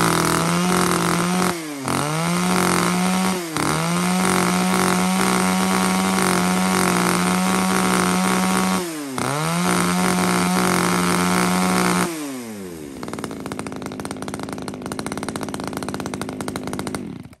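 A used Japanese chainsaw engine runs during a test, screaming loud and steady with a few brief dips, then settling to a lower, rougher idle near the end.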